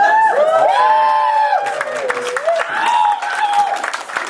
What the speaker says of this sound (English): I didn't expect you all to clap.